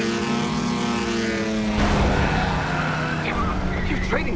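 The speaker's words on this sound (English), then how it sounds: "Where'd that car come from?" A race car in a racing sequence of the video game Trails Through Daybreak II roars past with a whining engine and a tire skid that rises partway through, loud and close over a busy game soundtrack.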